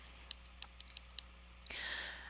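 Graphing calculator buttons pressed one after another, a string of soft, close plastic clicks at an uneven pace, ending in a brief louder rustle.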